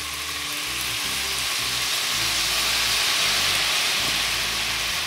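Kerrygold butter with ginger and honey sizzling hard in a pan, a dense continuous crackling hiss like rain, close and steady throughout with no voices.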